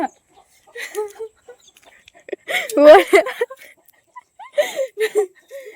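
Hen clucks in short bursts, close by, mixed with people talking over them.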